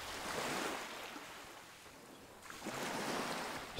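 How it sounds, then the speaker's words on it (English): Ocean waves lap onto a sandy shore, a soft, steady wash of surf that swells, eases into a gentle lull, and then rises again. "You listen to the waves lap onto the shore, and the sound is soothing to your soul."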